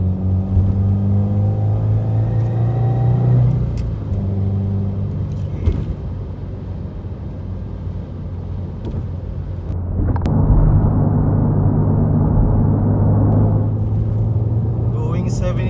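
A Subaru car rumbles and builds speed during a speed test, its engine tone rising, easing off, then climbing again, close up and under near-constant talk.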